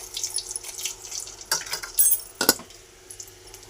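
Four dried red chillies dropped into hot oil with popped mustard seeds in a pan for a mixed chutney, giving brief crackling, sizzling bursts and a couple of sharp metallic clinks, close by with no talk.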